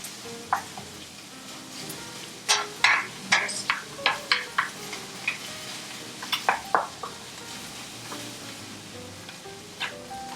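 Eggs seasoned with pepper sizzle steadily in a pan for shrimp fried rice, with a run of sharp scraping stirs and clinks from a utensil in the middle and a few more later, close and clear with no talking.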